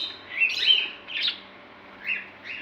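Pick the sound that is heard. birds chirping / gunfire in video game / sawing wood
birds chirping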